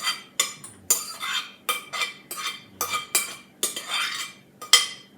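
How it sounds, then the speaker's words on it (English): A spoon scrapes and taps repeatedly as bread dressing is scooped into a small greased pan, a series of close, sharp clinks and soft scrapes in an uneven rhythm, no voices. "I'm going to put it right here in a greased little pan here."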